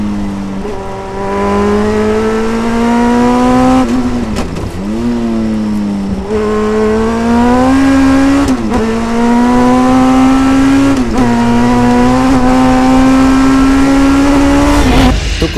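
A Westfield Megabusa with a sequential gearbox accelerates hard, its high-revving engine rising in pitch through repeated gear changes, each shift marked by a brief drop before the note climbs again, loud and close from inside the car.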